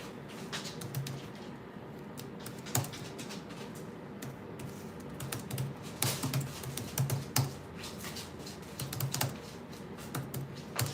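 Steady clicking of a laptop keyboard being typed on, close and fairly quiet, with brief pauses and bursts of keystrokes.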